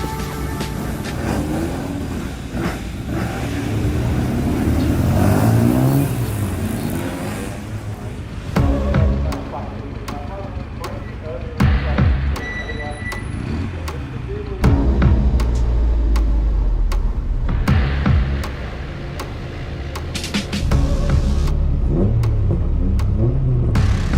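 A slick-tyred racing car on track revs its engine hard through repeated acceleration bursts and gear changes, loud and close, with roaring pulls broken by brief lifts and crackles.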